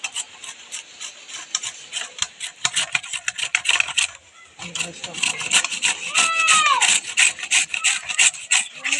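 Mango rubbed against a grater for chutney, giving a steady series of close, rasping scrapes with a short pause midway and a voice speaking briefly over the later strokes.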